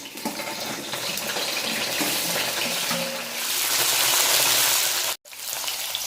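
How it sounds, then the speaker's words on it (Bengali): Vegetables frying in white oil in a wok, a steady loud hiss and crackle that swells toward the end, broken by a brief moment of silence. "সবজিগুলো তেলের মধ্যে দিয়ে দেবো।"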